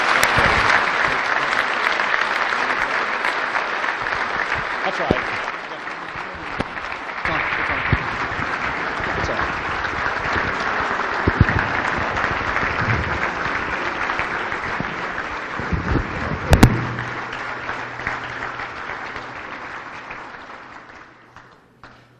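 Sustained audience applause at a gala for someone, dense and loud clapping that carries on for about twenty seconds before fading, with a brief voice in the mix.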